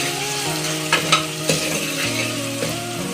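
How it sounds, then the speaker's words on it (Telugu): Masala frying in a pan for Hyderabadi mutton curry sizzles loudly and continuously, broken by several sharp stirring scrapes, with a tonal hum running underneath. "బాగా ఫ్రై చేయాలండి. పచ్చివాసన పోయేంత వరకు ఫ్రై చేసుకోవాలండి."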